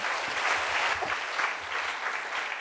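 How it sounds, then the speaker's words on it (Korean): A church congregation applauds together to glorify the Lord during a sermon, a dense, steady clapping that fills the room without pause and with no voices over it. "다시 한번 박수로 주님께 영광합니다"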